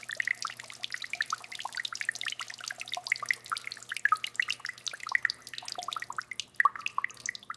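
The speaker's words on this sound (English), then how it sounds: "We're washing down every part and the body shell of the 37 Chrysler Airflow Coupe." Water rinses the body shell of a 1937 Chrysler Airflow Coupe during a deep clean, heard as dense, close patter of drips and trickles with a faint steady hum beneath.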